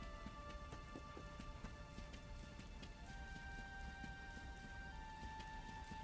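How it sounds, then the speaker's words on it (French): Steady rain falls in the video game Dragon Quest XI, a dense, continuous patter with scattered droplet ticks and a soft hiss throughout, joined by light rhythmic clopping like hooves and faint tonal game music. "Il pleut."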